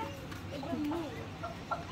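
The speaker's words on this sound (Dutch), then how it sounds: "Ook allemaal kippen." Soft clucking from chickens nearby amid steady outdoor background noise, a few short calls rising above the din.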